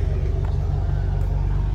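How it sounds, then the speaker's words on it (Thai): A large two-trailer truck fitted with new tyres, its engine rumbling close by in a low, steady drone on a morning road. "รถพ่วงนะครับ"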